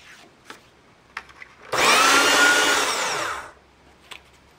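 A scrap of material is fed through a shredder, a single loud grinding whir lasting under two seconds, with faint handling taps before and after.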